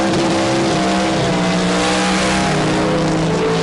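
A drag racing car at Bug Jam roars loudly and continuously at full throttle down the strip, a steady high engine drone held for several seconds with no talk over it.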